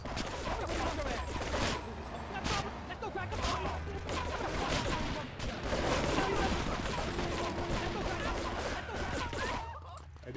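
Rapid bursts of gunfire sound during a rampage in Grand Theft Auto III, with dense overlapping shots and explosions-like cracks continuing loudly throughout amid busy game noise.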